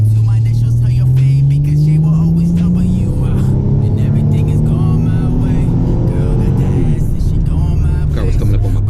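A Ford Mustang accelerates at half throttle, its engine note climbing steadily in a loud, continuous rising drone that holds close and strong throughout, with other traffic around it.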